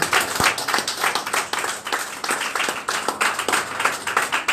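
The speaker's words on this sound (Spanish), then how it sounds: "Denle un fuerte aplauso al Señor." Sustained applause from a church congregation during a Sunday service, dense and steady throughout, with a few sharper claps standing out near the front.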